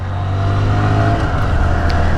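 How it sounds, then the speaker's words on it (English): A Honda Grom motorcycle engine revving, a loud, close, steady buzzing drone with strong low harmonics that holds at high revs throughout. "This thing revs out fast."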